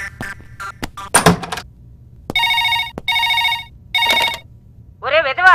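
A telephone rings in three loud, close bursts of repeated tones, with clattering noises and voices before the rings and a voice after them.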